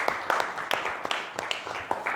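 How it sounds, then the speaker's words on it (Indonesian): Students in a classroom clap their hands in scattered, uneven bursts, with crisp individual claps overlapping loosely rather than forming a steady roar, heard at moderate level in the room. "Iya, tepuk tangan semuanya."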